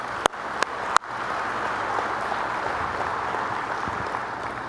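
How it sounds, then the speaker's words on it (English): Audience applause fills the room at an annual meeting and dinner, a broad, steady wash of clapping after a few sharp claps at the start, continuing without speech. "Can we give a round of applause for those folks?"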